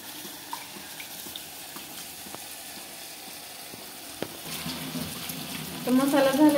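Red masoor lentils and rice are rinsed together in clean water. Soft trickling and sloshing sit low at first, then swell into louder, close splashing and swirling near the end.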